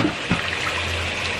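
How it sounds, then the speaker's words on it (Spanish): Hands plunge into cold water after a burn, a close splash followed by steady running and sloshing water, with no talking. "Mete las manos en agua."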